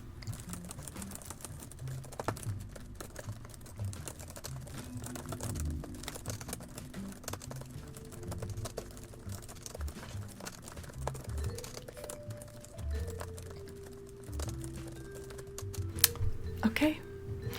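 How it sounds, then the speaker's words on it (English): Rapid, continuous clatter of fingers speed-typing on a computer keyboard, soft and close, with faint background sounds underneath and no pauses in the keystrokes. "I'm just gonna speed type a document up really quick of all this stuff"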